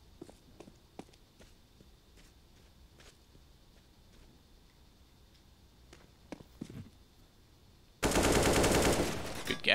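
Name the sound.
gunfire in Counter-Strike video game match on Overpass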